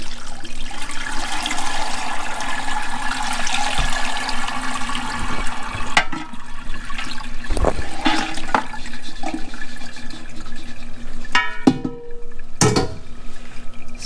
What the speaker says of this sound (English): So we're gonna let this drain, and you see all the soup is in the pot underneath.